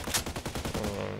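Rapid gunfire cracks in a first-person shooter game, a quick burst of several sharp shots in a row, loud and close, with no talking over it.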